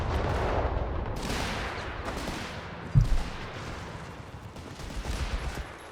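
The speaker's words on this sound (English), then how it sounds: "Got the Fallschirmjägers moving down the main road on to get blasted by the Crusader and its 2-pounder gun" Gunfire from a British Crusader tank's 2-pounder gun in the WWII strategy game Company of Heroes 3, heard as a battle din of shots with one sharp, punchy report standing out midway.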